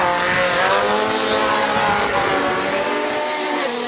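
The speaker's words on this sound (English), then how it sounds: "80 goes up and takes on the hill. It sounds insane." A single-seater race car, number 80, climbs a hill at a classic speed event with a loud, close, high-revving engine wail and rising gear-change tones, holding strong for the whole stretch.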